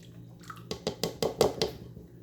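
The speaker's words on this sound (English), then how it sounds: "now we're going to need to add a 1/2 cup of butter melted" Melted butter pours into a mixing bowl for a blackberry crisp, a short run of soft wet drips and splats that builds over about a second, close and quiet with no talk.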